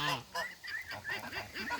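Geese calling to a lost duckling at feeding time, a quick series of nasal honks and cackles repeating close by, with a person's voice faintly mixed in.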